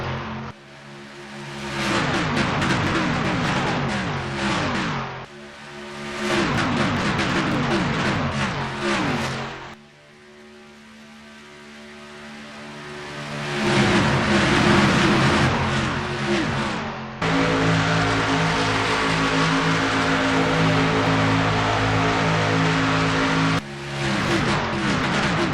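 Stock car racing engines on a big oval at the Florida 500, a continuous loud roar of V8s revving and passing in waves, with pitch sweeps as cars pass and shifting crowd-level intensity throughout.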